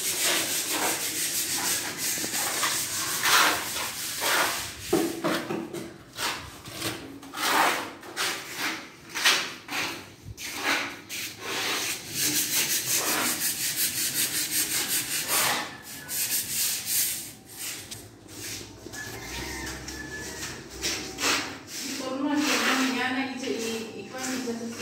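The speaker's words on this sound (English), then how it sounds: "So right now we're doing the skim coat and grouting of tiles." Steady scraping and rubbing as a skim coat is troweled and grout is worked into tiles at a water station construction site, in continuous rough strokes with voices in the background.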